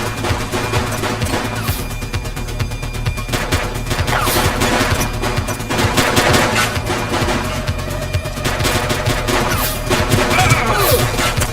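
Dense, continuous gunfire from the police game The Precinct, with rapid overlapping shots and bursts that stay loud and close throughout, with no pause.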